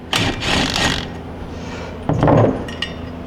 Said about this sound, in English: I'm going to take it off with my air ratchet